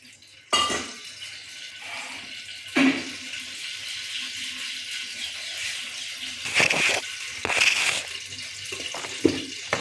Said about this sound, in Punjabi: ਲਓ ਜੀ ਆਪਾਂ ਸਬਜ਼ੀ ਧੋ ਲਈ ਆ